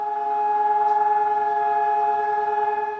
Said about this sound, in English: across the country sirens bring the nation to a halt in memory of the dead of the Holocaust